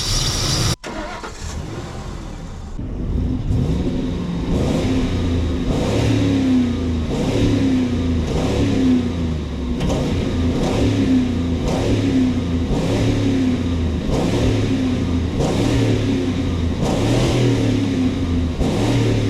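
An old $500 truck engine revs repeatedly during a Seafoam treatment, loud and close, with steady rhythmic surges of throttle over a rough running idle after a sudden start.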